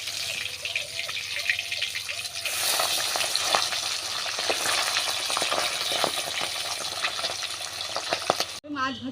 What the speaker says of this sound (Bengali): বাকি মাছগুলো আমি কড়াইতে দিব